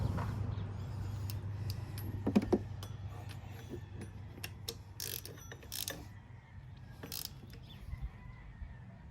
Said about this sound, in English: we're going to go through and tighten up all of these 12mm bolts for the power steering